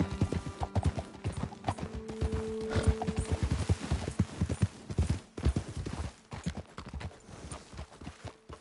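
Horses' hooves clip-clop in Red Dead Redemption 2 during a ride up a hillside path, a dense run of close, loud hoof strikes with a short neigh near the start, then slowing and thinning toward the end.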